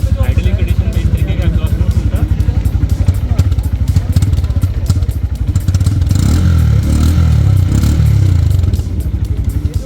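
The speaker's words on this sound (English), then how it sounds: "And that's how the exhaust note sounds like." A Honda CB 125 Hornet motorcycle engine idles close by with a steady, rapid low-pitched exhaust pulse, growing slightly louder and rougher partway through.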